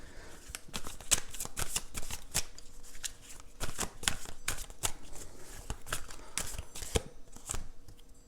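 Tarot cards being shuffled by hand, a continuous stream of crisp riffling slaps and flicks in quick uneven bursts, close and fairly loud, with no talking.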